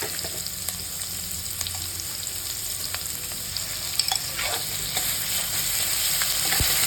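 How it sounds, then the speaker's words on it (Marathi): Onion is fried in a pan with ginger-garlic paste for a rasshedar sandge curry, a steady close sizzle broken by scattered clicks and scrapes of a stirring spoon, with no talk. "कांदा लालसर रंगावर भाजून घ्यायचा"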